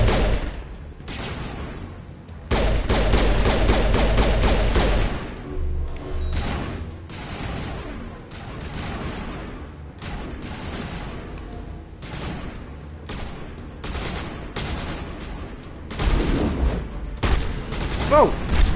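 Bursts of rapid gunfire and explosions from the Mass Effect video game, loud and dense in the opening seconds and then in scattered volleys, with excited voices talking over the fighting.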